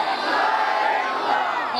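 Crowd at a religious gathering shouting a slogan back in unison, a loud, dense wash of many voices sustained through the moment.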